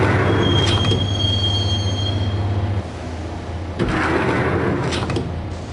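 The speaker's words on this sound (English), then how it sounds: "the train doors had already shut behind me, and I was in for the ride" Train rumble and squealing wheels from the video game Max Payne, a steady low roar with high metallic screeches, the drone dropping partway through before a burst of rattling clatter.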